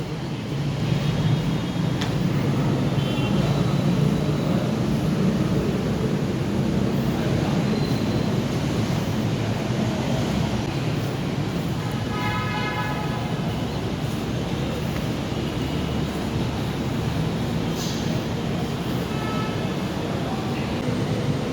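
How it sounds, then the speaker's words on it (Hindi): Lahore Orange Line metro train at Ali Town station, a steady loud rumble and roar of the moving train throughout with faint higher squeals and tones, heard from on board or close by. "ये ओरिएंट लाइन ट्रेन का पहला स्टेशन है अली टाउन वाला, जहाँ से ओरिएंट लाइन ट्रेन चलना शुरू होती है।"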